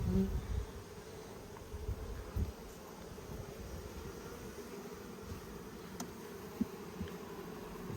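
A steady, low drone of many honey bees buzzing together at a hive, continuous and fairly close, with a few brief louder passes.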